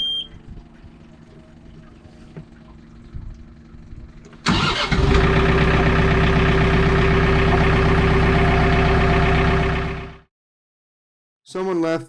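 A tractor engine in snow cranks and catches after a stretch of low background rumble, then runs loud and steady for about five seconds before cutting out abruptly, leaving silence and a short burst of sound near the end.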